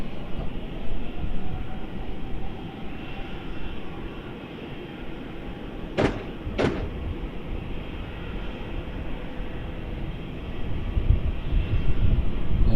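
A Malaysia Airlines Airbus A330neo rolls for takeoff at Melbourne Airport with a sustained low rumbling roar that swells toward the end, broken by two sharp clicks midway, and no talking.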